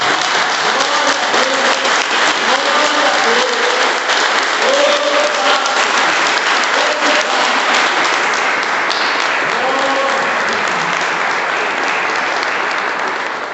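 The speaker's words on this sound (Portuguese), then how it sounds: "Você pode dar um aplauso ao Senhor?" Sustained applause from a large church congregation, steady and loud throughout, with faint voices mixed in beneath the clapping.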